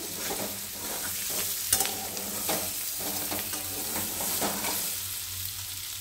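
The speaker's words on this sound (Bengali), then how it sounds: "আমি ভাজাটা খুব বেশি করব না, কারণ সেদ্ধ করা আছে।" Boiled baby potatoes fry briefly in a pan, giving a steady, close sizzle with scraping stir strokes throughout and no voices.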